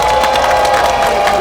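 A campaign rally crowd outside a subway station cheers and applauds loudly, a dense, steady wash of clapping and shouting voices.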